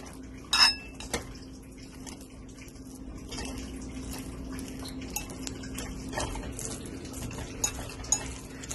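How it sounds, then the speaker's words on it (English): Four bananas are mashed in a bowl: soft, scattered clinks and scrapes of a utensil against the bowl, fairly quiet and close, with a couple of sharper knocks early on. "So here I have the 4 banana in a bowl, and I am mashing them."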